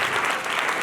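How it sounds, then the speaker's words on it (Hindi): A church audience breaks into loud, dense applause, a brief burst of clapping from many hands. "जोरदार ताली बोले"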